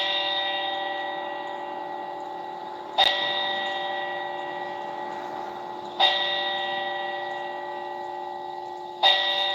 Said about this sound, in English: They rang the bell 4 times